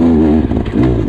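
A 2024 Beta Xtrainer 300 dirt bike engine runs loud and close, a steady rough mid-range drone that dips briefly and then picks back up.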